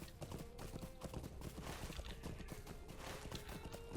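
Horse hooves clip-clop at a steady walking rhythm in the online game Lord of the Rings Online, a repeated clear beat over a busy game backdrop of ambient sound and music.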